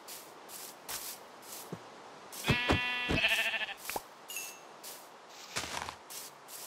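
A Minecraft sheep gives a clear bleat, then a second shaky bleat, among soft game clicks and footstep-like taps, with quiet background ambience.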